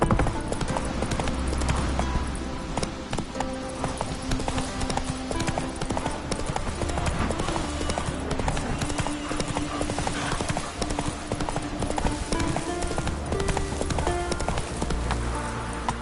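Hooves of Roach, a horse in The Witcher 3 on PS5, clip-clopping in a steady rhythmic gait over dense game ambience and music, with a faint whinny and brief speech in the background.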